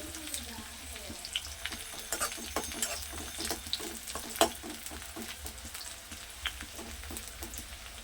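Onions fry in oil in a pan for bagara baingan, a soft steady sizzle under occasional spoon stirs and light clinks against the pan, fairly quiet and close.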